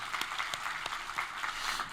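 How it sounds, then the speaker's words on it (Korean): A church congregation applauds together in a steady, close wash of many hands clapping, with dense overlapping claps and no voices. "우리 하나님께 감사와 영광의 박수를 드리겠습니다."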